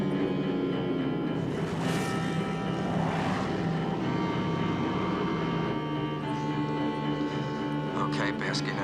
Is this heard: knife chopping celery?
no